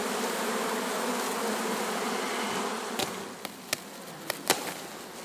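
Honey bees buzz around a hive near linden trees, a dense continuous drone close by, with a few sharp clicks and knocks near the end and no speech.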